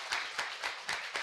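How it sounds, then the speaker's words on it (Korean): Audience applause at a live Korean talk-show style event, a brief burst of steady clapping with rhythmic swells, moderately loud and close with no voices over it. "큰 박수 부탁드리겠습니다"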